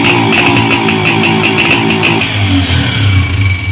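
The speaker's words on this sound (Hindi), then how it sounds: "अब इसको एक्सीलेटर देते हैं तो ये मिसिंग बहुत" A Honda CG125 motorcycle engine is accelerated while misfiring, giving an uneven, stuttering rev with irregular pulses before it settles back, loud and close, with no voice.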